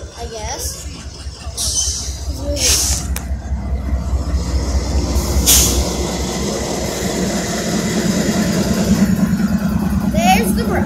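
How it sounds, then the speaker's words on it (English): A train rolls along with a steady low rumble and rattling wheels, while people talk over it throughout. "We got our train moving"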